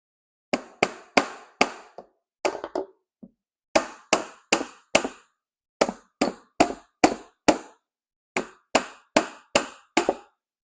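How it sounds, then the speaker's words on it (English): A rubber mallet taps on the gasket of a Honda V65 Sabre V4 motorcycle engine, giving sharp, close knocks in quick clusters of three to five with brief pauses between groups. "With the rubber mallet. Don't want to tear up the gasket."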